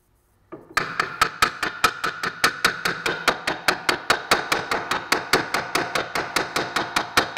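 Steady hammer taps seating the wheel hub assembly on a 2005 Mazda 3 during a front wheel bearing replacement, about thirty sharp metallic strikes at an even quick rhythm, close and loud.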